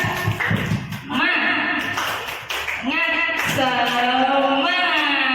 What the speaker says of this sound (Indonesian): Semuanya dulu tepuk semangat.